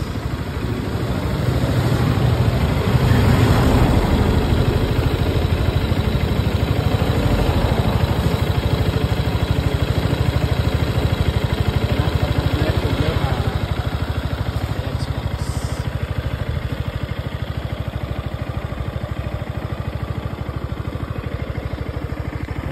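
A motorcycle engine with 82,000 km and five years of use idles steadily close by, a continuous, even rumble with a regular low throb and no revving.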